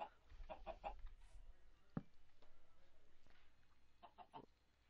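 Chickens clucking in the Minecraft video game, a few short bursts of clucks in a quick cluster at the start and again near the end, with a sharp click between them, heard fairly close over a low background hum.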